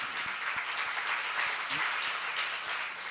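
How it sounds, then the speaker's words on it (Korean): Congregation at a Korean church seminar on Ezekiel applauding, a steady wash of hand claps at moderate distance with a few sharper claps standing out, continuing evenly throughout. "박수로 하세요"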